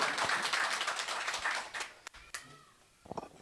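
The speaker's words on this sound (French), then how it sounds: "Je vais demander un gros applaudissement," Applause for a performer at an album release performance and press conference: dense clapping from a crowd dies away after about two seconds, leaving a few scattered claps and taps.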